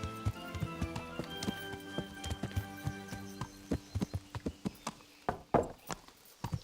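Horse hooves clip-clopping in Kingdom Come: Deliverance, a steady run of close, crisp hoof strikes that grows more irregular toward the end.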